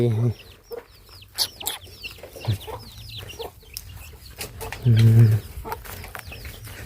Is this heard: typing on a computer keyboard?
no